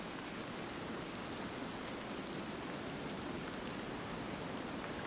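Rain pours in a constant, unbroken hiss in the survival game Sons of the Forest, a dense spread of drops on surfaces holding the same level throughout with nothing else heard.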